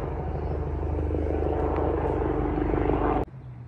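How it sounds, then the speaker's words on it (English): Steady droning rumble of a helicopter overhead, continuous and fairly loud, cutting off abruptly near the end. "There was a helicopter going over"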